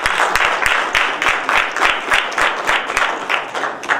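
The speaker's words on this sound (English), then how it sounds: "Give yourself a round of applause." Audience applause at a local village community event, dense steady clapping from many hands, loud and close, running throughout without speech.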